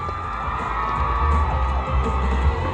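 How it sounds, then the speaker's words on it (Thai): A crowd cheers and claps for the winner of a game at a Thai musical fan event, with high excited shouts and whoops over sustained applause in a lively, echoing hall. "ขอเสียงปรบมือกับผู้ชนะ บอดพีน"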